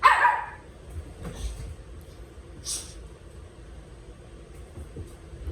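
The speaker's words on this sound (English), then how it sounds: "he's yapping, my little puppy" A small puppy yaps sharply once at the start, loud and close, followed by quieter indoor room tone with a few faint clicks and shuffles.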